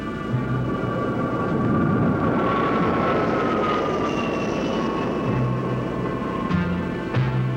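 Tactical Air Command military airplanes roar loudly and steadily, with a sustained engine drone and a high whine that bends slowly in pitch, in a dense wash of noise without speech.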